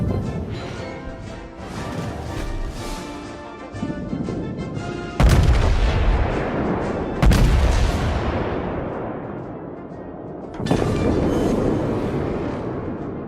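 Main guns of the battleship New Mexico fire at an enemy ship in a naval warfare video game. Three massive, close booms each roll away into a long rumbling decay, over a steady low engine drone.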